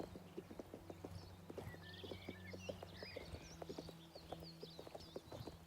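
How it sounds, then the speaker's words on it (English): Horse hooves clip-clop in a steady, even rhythm as a rider travels on horseback in the video game The Elder Scrolls IV: Oblivion Remastered, with a faint whinny-like tone and light ambient detail behind them. "It's gonna be faster on horseback."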